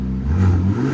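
Close, loud revving from a 2025 RAM RHO's 3.0L twin-turbo I6 through a Magnaflow SPEQ cat-back exhaust, a deep rising roar held for about a second.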